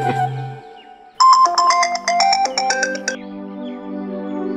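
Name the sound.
phone ringing with an incoming call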